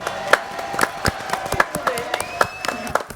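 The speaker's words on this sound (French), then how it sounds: "Applaudissements pour Nara." A studio audience applauds on a French TV show, sparse scattered claps with sharp individual hits rising and falling over a few seconds, mixed with some crowd noise and a faint tone in the background.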